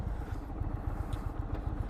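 A 2022 Indian Super Chief Limited motorcycle shifts gears on the road, its low engine rumble pulsing with a brief clunk amid steady riding noise, fairly close and continuous with no talk.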